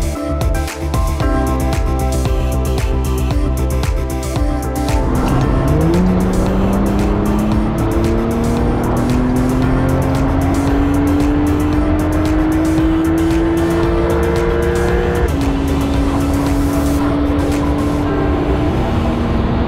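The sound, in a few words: Porsche 911 992 Carrera 4S accelerating onto the autobahn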